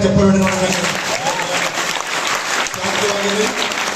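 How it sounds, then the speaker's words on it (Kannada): Loud, dense applause from a theatre audience, continuous clapping throughout with a voice and some musical tones heard over it. "ನಡಿನಾ ಜೋರಾಗಿ ಚಪ್ಪಾಳೆ"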